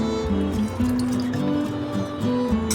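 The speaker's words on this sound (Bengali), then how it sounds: "আর গরম জল করে রেখেছি আমি, এই গরম জলটা দেব" Hot water poured into red lentil dal with bottle gourd in a pot, a steady close trickle and splash of liquid lasting a few seconds, with no voices.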